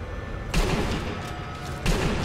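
Gunfire from the sniping video game Sniper Elite V2, with two sharp shots about a second apart, each followed by a booming tail over a steady bed of game noise and music, with no talk.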